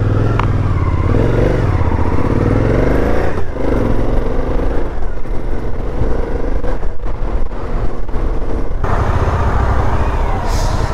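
A motorcycle riding past a queue of traffic on a South American road, engine rumbling loudly up close with shifting revs as other trucks and vehicles idle and pass nearby.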